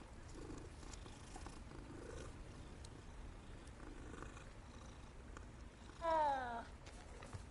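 A cat in the Hogwarts Legacy video game purrs softly and continuously at a low level, then gives one short, brighter meow near the end.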